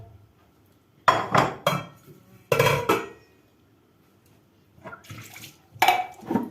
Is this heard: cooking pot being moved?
yes